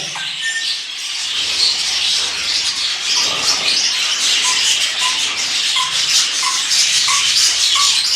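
A pet rosella parrot sings its courtship song, repeated clear whistled notes rising over a dense chatter of other bird calls, close and loud throughout.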